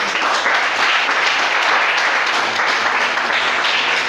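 A church congregation applauding, a loud, steady, continuous wash of clapping from many hands throughout.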